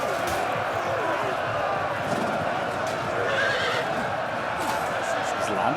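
Horses neigh and whinny amid a medieval cavalry battle in the AD Total War video game, with clopping hooves and a dense roar of combat, while someone narrates over the continuous din.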